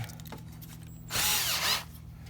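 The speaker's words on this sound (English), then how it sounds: "Drill the hole bigger." A power drill bores a larger hole during a light switch repair on a 2000 Ford Ranger, a loud burst of whirring and grinding that rises suddenly midway and runs for under a second before cutting off, with no one talking.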